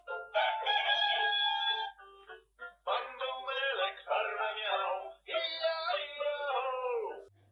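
An electronic farm animal play mat sounds a rooster's cock-a-doodle-doo: three loud, close, tonal crowing calls in a row, each a few seconds long, with a short pause between them and no voices.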